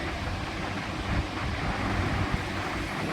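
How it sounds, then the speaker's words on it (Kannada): Heavy thunderstorm rain and gusting wind make a dense, unbroken roar from start to finish, close and loud, with no talk. "ಮಳೆ ಬರ್ತಾ ಇದೆ."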